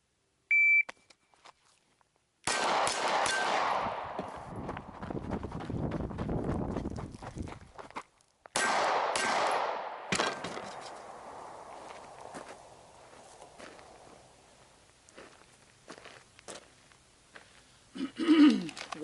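Gunshots ring out during a shooting drill against a falling target at roughly seven yards. A few sharp, loud cracks are each followed by a long echoing decay, separated by quieter stretches of small clicks and movement.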